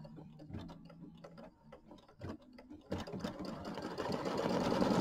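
A sewing machine stitching down a bright orange piece of beard fabric on a gnome quilt block, starting with sparse ticks and clicks, then building into a steady, loud mechanical whir that grows through the end.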